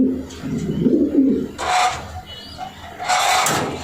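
Racing pigeons in cages, including a 2019 hen, coo in a low, soft burst near the start, followed by a few brief higher rustling sounds, close by with no talk.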